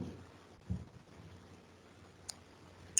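A computer mouse right-click gives a few faint, sharp, isolated clicks against a quiet room hum.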